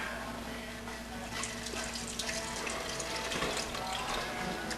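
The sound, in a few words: cup of water poured into clam chowder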